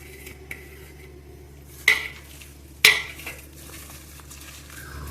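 Soft, irregular squelching and stirring as ground soaked lentil batter, seasoned with salt and asafoetida, is worked together by hand with grated pumpkin in a vessel, broken by two sharp clinks of a pot or utensil, close and fairly quiet, with no talk.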